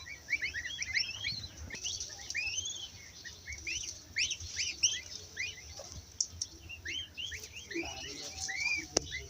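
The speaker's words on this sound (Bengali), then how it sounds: "আটটা বাচ্চা ফুটছে সাদা হাঁসের।" Eight newly hatched white ducklings in a Bangladeshi village, peeping in rapid overlapping high chirps, fairly close and continuous, with faint background rustle.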